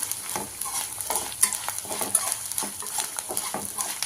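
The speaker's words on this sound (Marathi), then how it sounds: "तूप व्यवस्थित गरम झाल्यानंतरच आपल्याला हे डिंक याच्यामध्ये घालायचं आहे" Edible gum (dink) fries in hot ghee with a continuous close sizzle and crackle, broken by the clatter of stirring.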